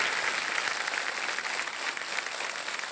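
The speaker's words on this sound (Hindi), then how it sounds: "देखिए सब खड़े होकर के ताली बजा रहे हैं आपके लिए" A TV quiz show studio audience on its feet applauding, a dense steady wash of clapping that holds evenly throughout, fairly distant and without speech.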